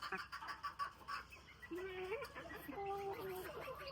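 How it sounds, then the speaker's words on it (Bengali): Chickens and a rooster, the flock's main breeding cock, make soft clucks and brief calls in a backyard coop, with continuous low clucking and a couple of short tonal calls midway. "আমার সব থেকে পছন্দের মোরগ এই একটা"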